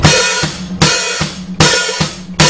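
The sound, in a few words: hi-hat opening and closing with bass drum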